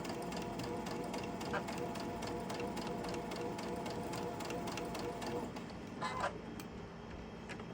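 Sewing machine stitching fabric over a bump at the pinned ends, a steady rapid mechanical whirr running continuously and close, with a slight change in pitch near the end.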